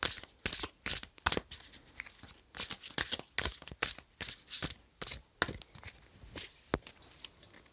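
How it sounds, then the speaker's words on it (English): Tarot cards are shuffled by hand in quick riffling bursts, repeated roughly every half second, close and crisp with short pauses between and no talking. "Right, so I'm going to shuffle for you"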